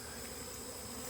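Honeybees swarm a bucket feeder of sugar water, giving a steady, dense buzzing drone with no pauses and no voices.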